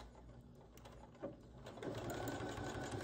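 Sewing machine back stitching at the start of a seam, a quiet rapid mechanical chatter that pauses briefly, then picks up again and runs steadily.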